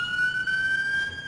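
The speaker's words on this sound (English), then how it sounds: "let these sirens pass by outside the DeKalb County Courthouse" An emergency siren passing outside the DeKalb County Courthouse sounds as a loud, steady rising wail over low traffic rumble.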